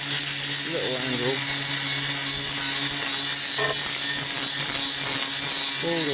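Angle grinder fitted with a sanding disc polishing the cut edge of porcelain gives a steady, loud whirring hum with a grinding rasp, continuous throughout, while a voice speaks briefly over it.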